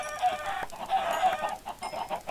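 Several chickens in a Minecraft-style video game cluck and squawk nearby in quick, overlapping bursts, fairly loud with no talking.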